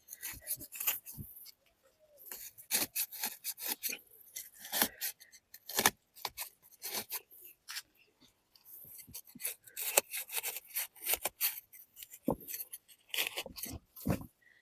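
Short rasping cuts and rubbing scrapes from trimming small banana plant suckers in a rooftop garden, coming in quick irregular bursts with brief pauses, close and fairly quiet.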